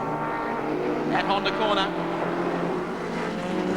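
Touring race cars lapping Amaroo Park circuit during a 1987 championship round, engines droning steadily and loud with a brief higher surge as cars pass, under continuous commentary.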